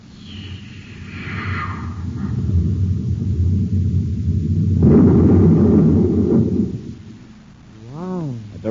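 A space torpedo strikes its target and explodes as a radio drama effect, a deep rolling boom that swells into heavy rumbling, then a warbling tone near the end.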